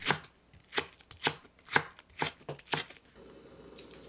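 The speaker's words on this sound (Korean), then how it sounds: "파를 썰어 주세요." A knife chops green onions on a cutting board, giving seven crisp, evenly spaced strokes, close and clear, and then a soft background hiss after the chopping stops.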